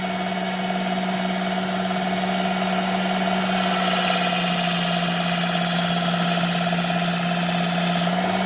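A Work Sharp Ken Onion Elite Mk.2 belt sharpener runs with a steady motor hum and whine, and a louder, hissing grind joins midway as a knife is passed over the new belt, then stops near the end.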